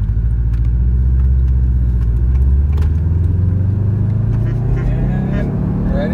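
A Subaru STI pulling away as its gears are shifted: a close, loud, low engine rumble that rises steadily in pitch as the car gathers speed, with a voice briefly audible over it.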